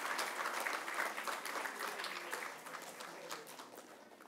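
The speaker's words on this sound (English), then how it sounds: "Let's give a huge round of applause to all the winners." Audience applause for award winners at a children's radio awards ceremony, a dense sustained wash of many hands clapping that slowly thins toward the end, with a faint crowd murmur.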